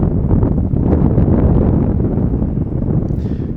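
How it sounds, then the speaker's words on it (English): Loud, rumbling wind buffets the microphone in a continuous roar, easing slightly toward the end. "Just going to wait for the wind to die down."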